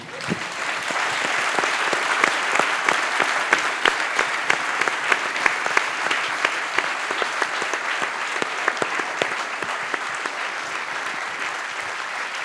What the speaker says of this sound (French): Je crois qu'on peut applaudir nos invités.